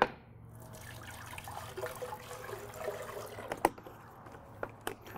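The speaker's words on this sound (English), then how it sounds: "I'm going to start by adding a little bit of water to this" Water pours and splashes softly into a blender, a low liquid trickle with a few clinks and taps, fairly quiet and close.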